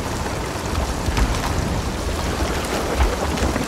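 Dense, steady rain roars without pause during a storm at sea in a video game, with deep low rumbles of thunder swelling now and then underneath.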